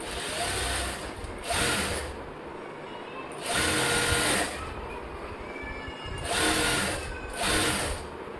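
Sewing machine running in several bursts while double-stitching the joined seam of fabric bra cups (katori cups) for a princess-cut blouse, its whirring rising and pausing about five times, close and steady with no talk.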